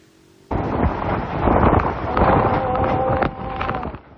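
Typhoon wind and rain batter Roxas, Oriental Mindoro shortly before landfall, a sudden loud gusting roar that swells and surges for several seconds before dropping off, with a faint whistling tone inside the blast.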